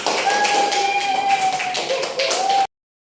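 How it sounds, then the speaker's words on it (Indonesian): A classroom of students claps together, a quick run of scattered taps over a few seconds with a faint tone underneath, then the sound stops abruptly. "tepuk tangan dulu"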